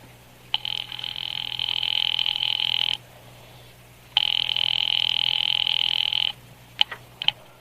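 A telephone rings in two long electronic trills separated by a pause, followed by a few brief clicks.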